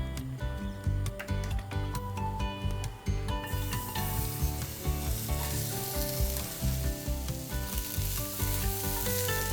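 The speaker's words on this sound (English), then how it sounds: "Once it's hot, we'll get a little cooking oil in there." Cooking oil sizzling in a hot pan over a high flame, a steady loud frying hiss that swells after a few seconds, with faint clinks underneath and no talking.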